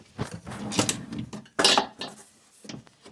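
Clattering and clinking of utensils and small objects being shuffled around in a kitchen drawer, in irregular bursts with brief pauses, close by.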